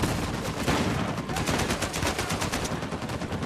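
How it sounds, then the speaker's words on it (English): Video game machine gun fire in Uncharted 4: A Thief's End, a loud, continuous stream of rapid, evenly spaced shots heard up close with no talking over it. "And of course, there's a machine gun."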